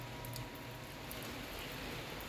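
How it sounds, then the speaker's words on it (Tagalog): Steady rain falls in Riyadh as a faint, continuous hiss and patter with no clear breaks, heard alone without voices. "Tuloy-tuloy yung ulan."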